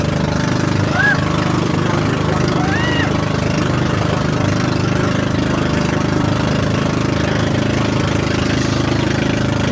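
Continuous low engine hum of a bangka outrigger boat running steadily on the sea at Lobo, Batangas, Philippines, like a motor at idle or cruising, with faint voices in the background.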